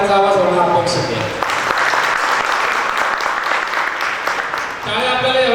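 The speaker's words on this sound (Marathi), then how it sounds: "जरा एकदा जोरदार टाळ्यांचा आवाज होणं अपेक्षित आहे." A seminar audience breaks into loud, sustained applause, dense clapping from many hands rising after a speaker's voice and lasting several seconds before the speaker resumes talking over it.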